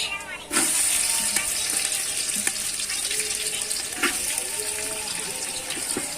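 Eggs cook in oil in a pan with a continuous bright sizzle and frying hiss, marked by a few scattered clicks and stirring knocks throughout.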